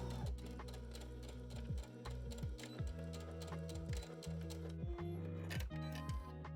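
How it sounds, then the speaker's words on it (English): A home sewing machine runs a straight stitch along the bottom edge of a pocket bag for elastic-waist trousers, a steady rapid mechanical ticking in short bursts with brief pauses, close and clear with no talking. "take our work back to our sewing machine and sew a straight stitch only at the bottom edge of the pocket bag"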